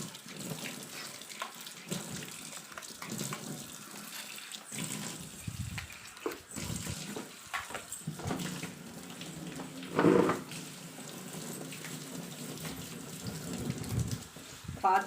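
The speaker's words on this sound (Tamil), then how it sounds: "நல்லா தண்ணி ஊற்றி கழுவிக்கலாம்." Water running from a kitchen tap during washing up, a continuous gushing splash that shifts as items pass under the stream, close and moderately loud, with no voices.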